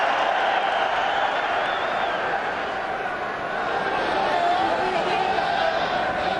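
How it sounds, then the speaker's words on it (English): Loud stadium crowd roaring and cheering at the kickoff of the 1999 Rugby World Cup quarter-final between France and Argentina, a dense sustained wall of noise throughout with no clear breaks. "Huge cheer."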